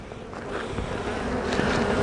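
Honeybees roused from their hive during a warm-weather check swarm right at the camera, a loud, dense, continuous buzzing that swells and wavers up close.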